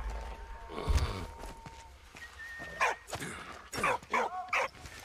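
A dog barks repeatedly in the World War I video game Valiant Hearts, a burst of loud, close, sharp barks and yips with scraping footstep-like noise under a steady background hum.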